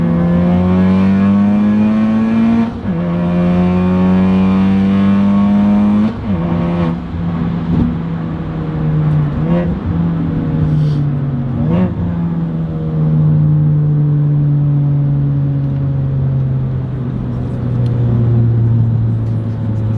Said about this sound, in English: The turbo spools up super fast now with that extra fuel, and it keeps solid boost all the way to redline.